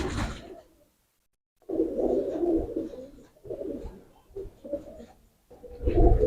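Pigeons kept by a rooftop fancier coo close by in repeated throaty bursts separated by short pauses, with no talking.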